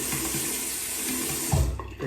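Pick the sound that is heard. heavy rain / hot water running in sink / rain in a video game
hot water running in sink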